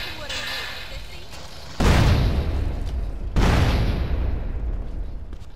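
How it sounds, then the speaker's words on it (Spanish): Two loud, booming explosions go off in GTA San Andreas about a second and a half apart, each with a long rumbling decay, after a voice speaks briefly over game ambience. "eso es una doble explosión"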